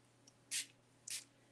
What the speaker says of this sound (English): I'm going to take my little spray brush, or not my spray brush, but my little spray bottle, and I'm going to give these a squirt